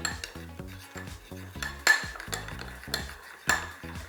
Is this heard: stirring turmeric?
yes